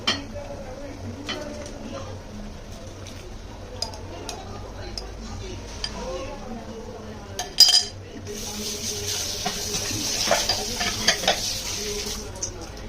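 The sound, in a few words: paneer and mushroom added to masala, stirring and sizzling in pan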